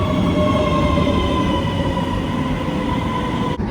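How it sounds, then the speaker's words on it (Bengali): A train arriving at a station on the Karlstad to Copenhagen route rumbles steadily with a sustained mechanical hum and whine, then cuts off abruptly near the end. "এই একটা ট্রেন চলে এসছে।"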